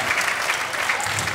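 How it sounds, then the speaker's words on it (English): An audience at a 2014 concert gives a brief round of applause, a steady wash of many hands clapping at moderate volume. "How about a round of applause?"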